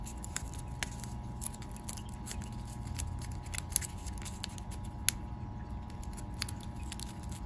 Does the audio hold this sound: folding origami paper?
yes